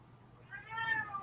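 A single cat meows once, fairly close and clear, rising in the second half over a quiet background with no talking.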